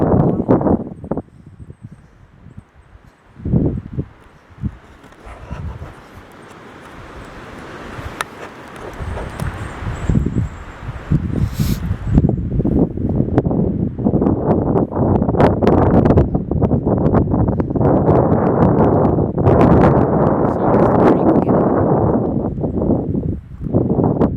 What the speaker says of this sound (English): There's like 40 or 50 mile an hour gusts